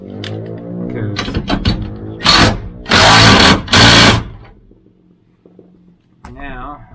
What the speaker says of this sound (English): Now that's plenty of torque with this torque gun to put that in there.